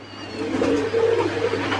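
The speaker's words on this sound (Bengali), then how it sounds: "এইখানে আরেক জোড়া লাহরি কবুতর নটা ব্লোবার আর মাদিটা গ্রেভার সাথে বাচ্চা আছে" A pair of Lahori pigeons, a blowing male and a female, coo softly with their chick nearby in a continuous low murmuring call, fairly close and steady over a constant background hum.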